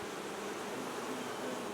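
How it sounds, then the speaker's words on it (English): Bees hum around a hive during swarm control, a steady close buzzing drone filling the brief moment with no voices. "We have bees out here"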